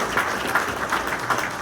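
A community audience at a Riverside County morning gathering applauds first-time attendees with steady, moderate clapping that swells in soft waves over the short stretch, with a little murmur of voices underneath.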